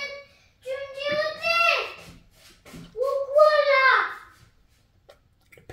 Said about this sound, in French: J'ai mes enfants qui jouent à cache-cache